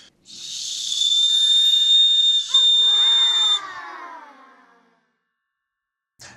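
A shrill, loud whistle from a paracord bracelet is blown close by for about three seconds, briefly interrupted, then trails off into a hissy breath and silence.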